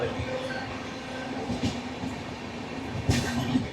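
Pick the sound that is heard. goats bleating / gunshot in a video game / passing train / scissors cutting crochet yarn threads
passing train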